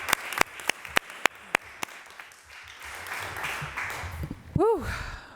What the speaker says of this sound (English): Another round of applause for Ivan Ward.